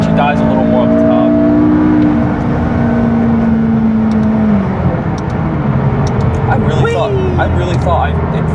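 A McLaren 570S supercar's engine drones and pulls steadily under acceleration from inside the cabin, a loud sustained tone that sags and shifts, with people talking over it throughout.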